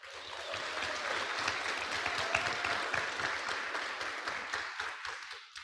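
An audience at an annual membership meeting claps steadily for several seconds after names of five-year members are read out, a moderately distant, sustained applause that swells slightly and then tapers.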